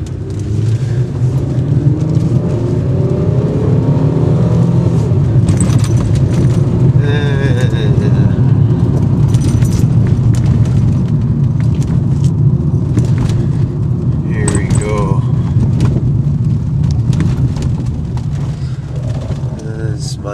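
Car driving out to a lakeside camp, a loud continuous low engine and road rumble heard from inside, with people talking intermittently over it.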